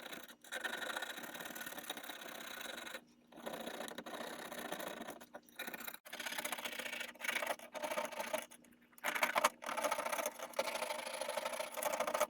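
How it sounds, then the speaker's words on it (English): A copper penny scrubs rust off a 150-year-old steel bayonet scabbard, giving a steady, close rasping rub in repeated strokes with a few brief pauses and no talk. "I'll use it to scrub off the rust."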